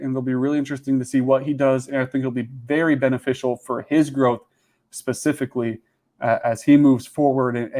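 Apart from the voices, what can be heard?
No distinct noise like a dog, phone or traffic.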